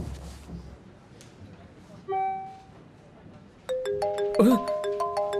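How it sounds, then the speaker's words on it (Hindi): A mobile phone starts ringing with a bright repeating electronic melody, preceded by a short tone, over background room noise. "फोन स्विच ऑन करते ही कॉल आ गया।"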